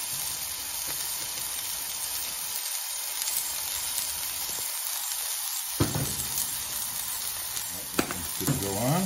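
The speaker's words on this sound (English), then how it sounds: "Just gonna get the other one seasoned on up while you enjoy the sizzle." Steady, close sizzling of a burger patty frying in a pan, a continuous hiss with a few small pops and clinks, no talking.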